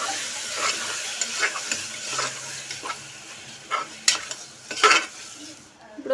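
Cluster beans curry with onion being stirred in a pan, a spoon scraping through sizzling, frying food in steady strokes, with a few sharper clinks near the end.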